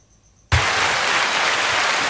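A short burst of crowd applause cuts in abruptly after a near-silent moment and holds steady as dense, loud clapping.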